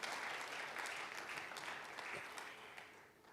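A church congregation at a Christmas celebration claps steadily for God, a dense wash of applause that holds fairly even for a few seconds, then eases slightly toward the end.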